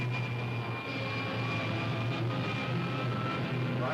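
Steady roaring rush of rocket jets firing in a sci-fi serial, a continuous engine drone with a low hum that holds at even loudness throughout, with no voices over it.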